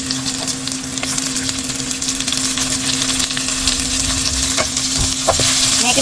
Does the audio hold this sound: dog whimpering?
no